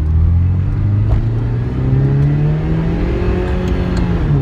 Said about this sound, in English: 32 years old and still sounds like a Ferrari.